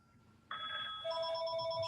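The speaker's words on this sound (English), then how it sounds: "wish I knew how to make my phone stop ringing" A mobile phone rings during a board meeting, its bright electronic tone starting abruptly and sustaining as a layered ringtone, loud and close in an otherwise quiet room.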